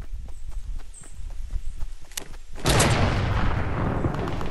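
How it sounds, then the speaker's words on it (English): Gunfire in Fortnite bursts loudly into dense, sustained shooting about midway through, after a stretch of scattered footsteps and distant sharp shots. "They're shooting."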